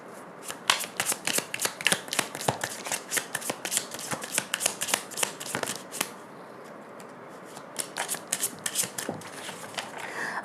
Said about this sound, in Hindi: और एक बार और शफल देते हैं।